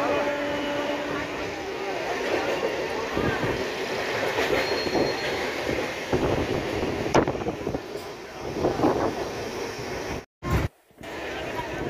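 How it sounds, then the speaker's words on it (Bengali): Moving train near Oyaria station: a continuous rumbling ride from inside with rattling wheels, brief squeals and clacks, and a couple of abrupt cut-outs near the end, with some faint talk in the carriage. "এই এখন ট্রেন যাচ্ছে"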